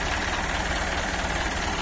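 Ford 7610 Turbo 4x2 tractor engine idles in a steady, loud diesel drone with a rough low rumble and no break in level.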